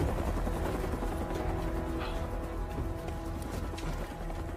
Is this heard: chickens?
no